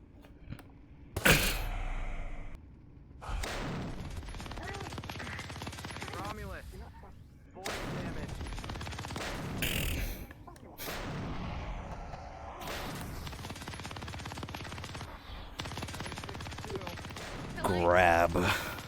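Video-game gunfire at a central building comes as loud bursts of shots and heavy impacts over nearly twenty seconds, mixed with explosions and game sounds, with voices speaking in between.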